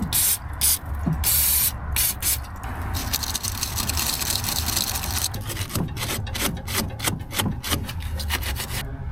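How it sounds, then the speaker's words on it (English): Electrical cleaner sprayed onto a corroded engine lead, a series of sharp hissing bursts with short pauses and scraping, rubbing handling noises, close and with no talk. "Let me run down to the basement and get the electrical cleaner."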